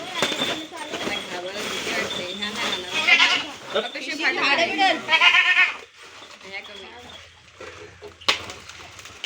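A 22-kilogram goat bleats repeatedly at close range amid people talking, with a brief sharp knock near the end.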